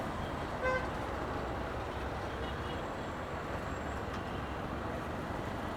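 Steady wind-blown road noise from riding a KTM Adventure 390 motorcycle, a constant loud rush with a brief horn-like toot early on.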